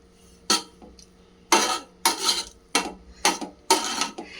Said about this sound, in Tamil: நல்லா கிளறிடுங்க.